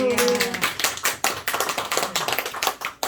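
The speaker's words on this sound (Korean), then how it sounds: "하나님께 영광의 박수." A church congregation bursts into applause during a Sunday worship service, a dense wash of many hands clapping at once, loud and close, following a brief spoken phrase at the start.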